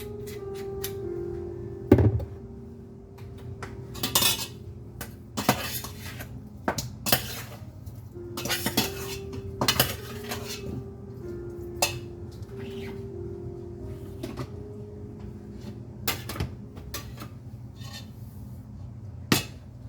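Olive oil hitting a pot for a Cuban ajiaco sofrito, heard through repeated clanks and clatters of a spoon and pot over a soft background hiss, with occasional faint bird calls and no talking.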